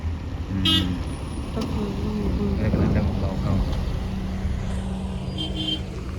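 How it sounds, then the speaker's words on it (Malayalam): Heavy traffic jam with many vehicles crawling along a road near Malampuzha, Palakkad, Kerala: a constant roar of engines, a brief horn toot, and voices talking over the din. "ഇഷ്ടംപോലെ വണ്ടികളാണ് നല്ല ബ്ലോക്കാണ്"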